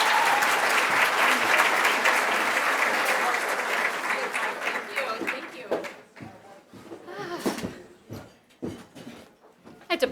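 Breakfast crowd at a charity event gives a dense round of applause that fades after several seconds, followed by someone talking close to the microphone.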